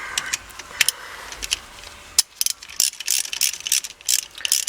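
Threaded part of a short throw shifter screwed on during an install in a 1986 Mustang GT, giving a run of close, crisp metallic clicks and ratcheting ticks, sparse at first and then quicker and denser, with no talk.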